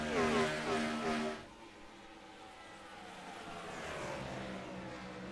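ARCA race cars at Iowa Speedway in the iRacing video game, engine whine passing close and loud at first, then a fainter pack droning steadily with rising pitch.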